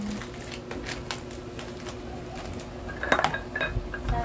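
Cans of corned beef, tuna and sardines handled close up, with light metallic clinks and knocks that grow into a louder clatter near the end.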